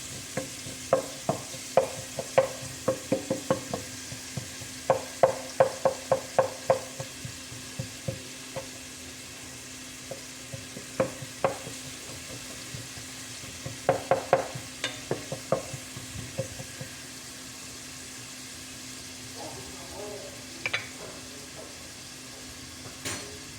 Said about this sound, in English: Allow your onions to fry first before you put your hot peppers